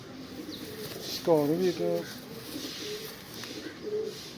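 A pigeon coos once, close and clear, amid quiet rustling, with someone speaking briefly in the background.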